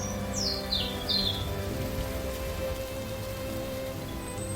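Steady rain falls in a dense, even hiss through the whole stretch, with a few high bird chirps rising above it early on.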